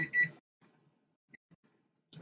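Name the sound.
beeping signalling the rice is done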